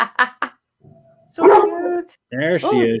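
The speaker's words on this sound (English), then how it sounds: "the other dog barking in the background" A dog barks a few times indoors, with short sharp yaps rising out of the background between bursts of nearby conversation.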